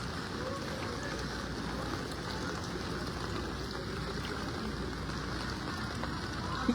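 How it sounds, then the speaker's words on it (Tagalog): Heavy rain pours steadily during flooding in Metro Manila, a dense, unbroken wash of water noise that stays even and loud throughout with no voices. "Malakas pa ang ulan."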